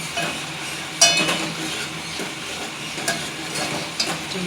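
Vaghar tempering for Gujarati dal sizzling in a hot pan: a steady hiss of frying oil, with a few sharp metal spoon clinks striking at irregular moments, close and moderately loud.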